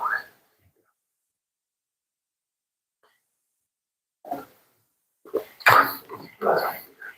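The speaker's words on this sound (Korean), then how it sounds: "나도 같이 기침이 나오려고 하더라고." Coughing during a church Sunday morning service: a couple of brief, close bursts followed by a denser cluster of several harsh coughs and throat sounds, with silence between.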